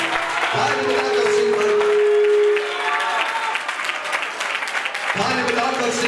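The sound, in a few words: church congregation clapping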